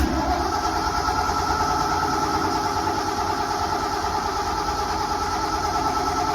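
A rough old carbureted 7.3L truck engine cranks cold, churning loudly and steadily up close, a low, uneven rumble that never settles into a smooth idle.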